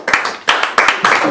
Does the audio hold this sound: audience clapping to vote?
yes